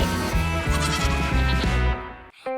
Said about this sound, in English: There were some very beautiful goats in the pen.